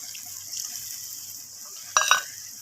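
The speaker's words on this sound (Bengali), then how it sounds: "এখানে আমি দিয়ে দেব মশলার বাটি ধোয়া জলগুলো দিয়ে দেব।" Water is poured into a simmering gravy of potol, a faint steady hiss and sizzle of cooking with a brief splash near the end.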